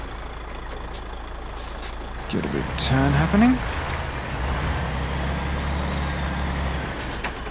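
Truck in the video game Mudrunner: a steady low engine idle, then a hiss of air brakes followed by a short series of rising electronic beeps, with someone talking over it.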